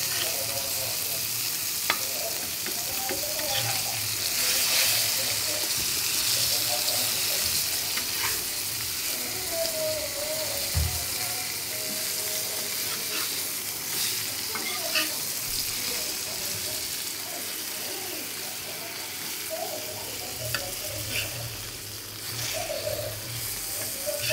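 Pomfret fish fries in a pan with a soft, continuous sizzle and occasional crackles and pops, fairly quiet and steady throughout.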